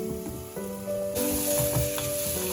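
Morola fish and pointed gourd frying under a lid in a pan, a steady close sizzle with light crackle throughout that grows a little brighter partway through.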